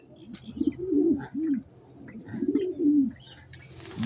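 Pigeons coo in a bath, a series of close, rounded rolling coos in two clusters with short gaps, with faint chirps and a little splashing or rustle around them.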